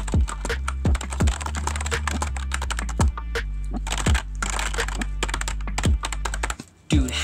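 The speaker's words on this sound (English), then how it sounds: "This is such a cool keyboard. And I love the noise it makes when you type." Rapid typing on a computer keyboard with a strong, clicky sound, steady bursts of keystrokes at close range with a few heavier thunks and a pause near the end, no voices.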